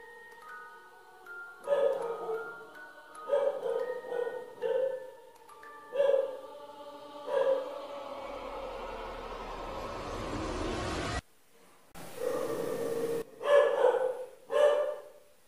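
A dog barks in repeated short bursts, some close and sharp, separated by pauses and a stretch of rushing noise.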